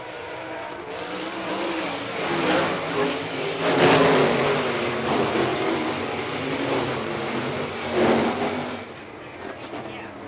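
Dirt track race cars at an All Star Circuit of Champions Speedweek event in Barberville, Florida roar away at the start, a dense, steady engine din with surging swells, heard from a distance under a commentator's voice.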